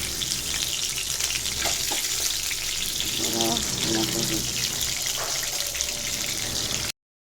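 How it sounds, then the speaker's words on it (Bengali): Rohu fish fry in oil, making a steady, loud, hissing sizzle throughout, with faint voices and a few clinks in the background, before the sound cuts off abruptly. "আর মাছ ভাজতেছি, রুই মাছ বোনা করবো"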